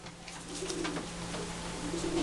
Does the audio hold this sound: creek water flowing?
no